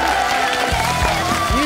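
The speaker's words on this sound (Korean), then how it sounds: "자, 다시 한번 박수 부탁드립니다." Studio audience on a Korean variety talk show applauding, a dense steady wash of clapping close and loud throughout, with a few low thumps underneath.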